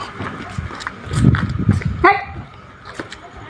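A single sharp dog bark rings out near the middle, with people talking and moving around it.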